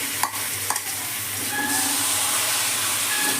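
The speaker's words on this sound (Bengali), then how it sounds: "চিকেনটাকে এবার খুব ভালো করে আমাকে তেলের মধ্যে নেড়ে নিচ্ছি" Marinated chicken coated in yogurt and black pepper, about 500 grams, sizzles steadily in hot oil in a pan while being stirred, with a couple of scraping utensil knocks near the start under the continuous frying hiss.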